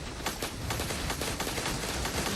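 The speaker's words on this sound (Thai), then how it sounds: "ยิงปืนเข้าไปปุ้ม" Rapid gunfire from a robot battle in the mobile PVP sandbox game Astracraft, a dense run of overlapping shots and bursts that stays loud and steady throughout with no talking.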